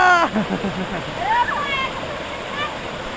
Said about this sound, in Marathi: पाहू शकता मित्रांनो धबधबा जे आहे ते आपल्याला इथं पाहायला मिळत आहे